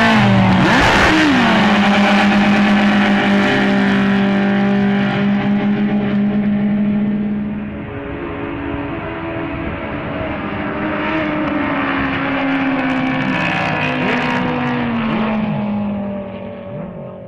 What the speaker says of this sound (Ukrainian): Так відбувалися перегони з водно-моторного спорту